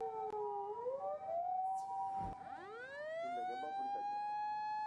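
A toy ambulance siren wails with rising and falling electronic tones, interrupted by a brief click, then continues its steady sweeping pitch.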